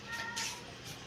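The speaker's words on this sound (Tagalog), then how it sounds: "Ang pusa, gana ka, kumain na." A house cat meows amid quiet background noise in a home kitchen, a couple of short faint mews over low ambient hum.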